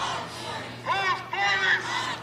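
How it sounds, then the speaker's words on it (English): A street protest crowd chants in rising, rhythmic shouted bursts, set back at mid-distance over steady low traffic-like rumble during live coverage of a Sacramento demonstration. "The crowd is chanting"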